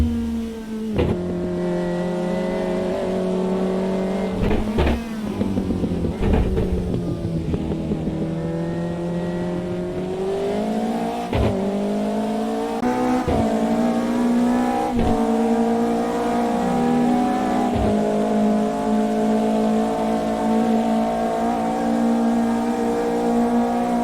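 Several race cars in the GTL Sports 2000 racing game fight closely for 10th place, their engines droning loudly and continuously together with pitch rising and falling through gear changes, plus brief sharp shifts.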